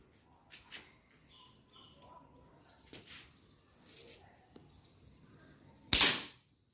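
A slingshot fired outdoors gives a sharp, loud snap near the end, preceded by quieter handling sounds, faint background calls and a few soft clicks.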